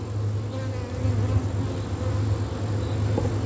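Honey bees buzz at an open hive, a dense, continuous low drone filling the whole stretch up close, with a few individual bees passing nearer, no talk.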